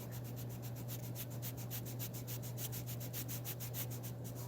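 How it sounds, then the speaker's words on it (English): A finger rubs graphite pencil lead across paper to fill in shading, a steady, quiet scratchy rasp in quick repeated circular strokes over a constant low hum. "And sometimes I just move the lead with my finger. And I'm just going to rub around here until I get it"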